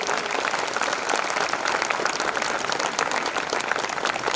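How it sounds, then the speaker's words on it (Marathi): Dense, sustained applause from an audience at a felicitation ceremony, steady and loud throughout with no pauses, many hands clapping at once. "थोडा मोठ्याने आवाज टाळा वाजवा."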